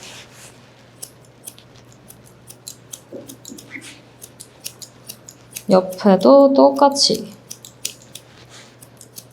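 Dog grooming scissors snipping through fur during a rough first-pass lamb clip, a rapid series of crisp close-up metallic snips under a calm voice speaking.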